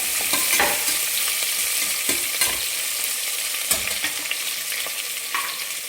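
Chopped onions sizzle in hot oil in a pan while being stirred for a chicken banana-leaf biryani, a continuous frying hiss broken by several sharp scraping knocks of the spoon, close and with no talk.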